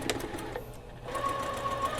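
A sewing machine stitches down an elastic casing on a dress sleeve along a serged seam, giving a steady close mechanical whir with a brief pause midway before it resumes.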